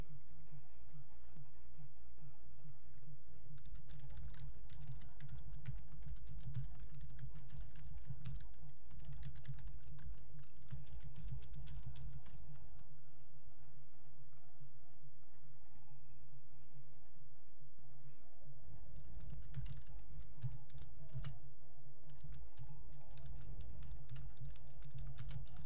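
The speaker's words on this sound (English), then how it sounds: "I really am typing with one hand" Someone typing on a computer keyboard with one hand, a steady stream of close clicking keystrokes that continues for the whole stretch with no talking.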